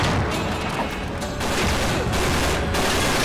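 Gunfire in the video game Uncharted 3, a loud, continuous volley of close shots and crashing impacts with short dips between bursts.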